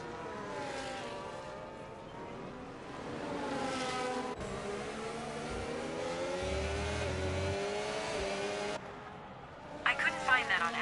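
Race car engine accelerating out of the first chicane at Monza in a racing video game, a sustained rising engine note with gear changes, running under a commentator's voice.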